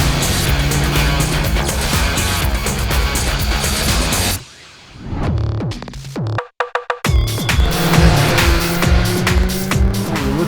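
A Honda motorcycle at high speed, around 300 km/h, its engine roaring loud and close with rising, shifting tones, briefly dropping away midway with a few sharp bursts before the roar returns at full strength.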